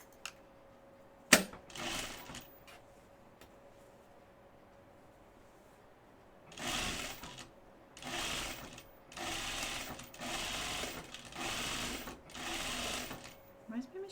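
A sewing machine stitching a dress runs in several short bursts of rapid, rattling whirring, close and fairly loud, after a quieter stretch with a sharp click and faint handling noises.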